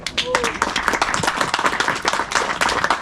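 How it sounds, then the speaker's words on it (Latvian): Applause from the room at a football club's post-match press conference, a dense burst of hands clapping that keeps going at fairly close range, mixed with a little background noise. "Paldies, aplausi jums."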